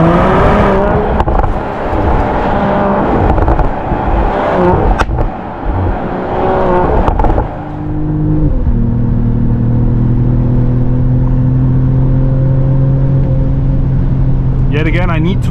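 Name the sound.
Mercedes AMG GLE53 six-cylinder engine accelerating in Sport Plus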